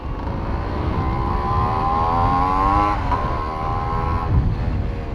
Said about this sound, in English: Wow, crazy exhaust note.